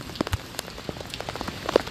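Scattered raindrops patter and tick irregularly on a nearby surface near a hut, soft and quiet, with no voices.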